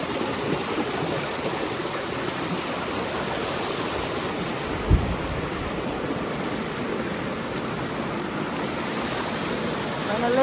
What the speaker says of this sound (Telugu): ఈ బండ కొరికల నుండి వచ్చే నీళ్ళు ఇంత జలంగా